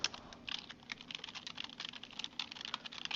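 Fast, steady typing on a computer keyboard as a note is written, a close run of light key clicks with small irregular pauses and no voices.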